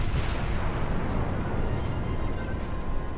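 Naval gunfire and shell explosions in the World of Warships game, a dense, continuous rumble of booms and blasts at high volume with no clear gaps, followed by a few faint higher pops.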